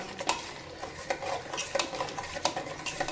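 A utensil scrapes and clinks against a pot in repeated strokes while kodo millet sambar rice is stirred, close and fairly quiet, with no talking.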